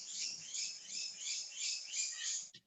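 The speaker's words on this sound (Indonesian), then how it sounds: "Sampai bunyi burung ya" Small birds chirp in repeated high twittering bursts, fairly clear and close, with a quick click at the very end and no talk.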